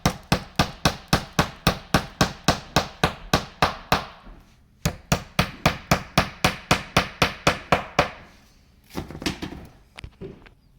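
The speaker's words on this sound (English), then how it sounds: "you take a hammer and tap them in lightly" A hammer taps plastic plugs into holes in an IKEA kitchen door front, giving about thirty light, evenly spaced sharp knocks in two runs, then a few scattered softer taps.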